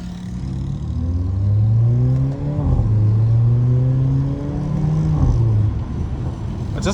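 A loud Mercedes CLA 45 AMG driven in South Africa, its engine droning and rising through revs with gear changes around 2.5 and 5.5 seconds, followed by deep, bassy exhaust pops at low RPM, heard from inside the car.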